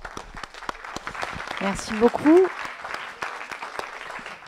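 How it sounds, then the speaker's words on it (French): Audience at a French roundtable on domestic and sexist violence applauds the four panel speakers, a steady patter of clapping running throughout beneath a voice speaking briefly in the middle. "je pense qu'on peut à nouveau les applaudir toutes les quatre"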